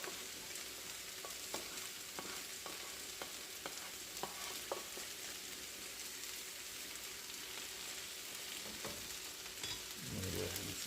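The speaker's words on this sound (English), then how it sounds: "I'm going to go ahead and add the Beyond Steak to the veggies" Beyond Steak pieces stir-fry with vegetables in a hot pan, giving a continuous sizzle broken by occasional soft scrapes and taps of stirring, with no talking.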